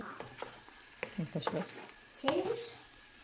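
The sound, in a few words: stirring pasta with zucchini in a pan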